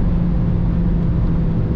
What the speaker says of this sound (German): Hört ihr, wie schnell diese Schaltvorgänge sind?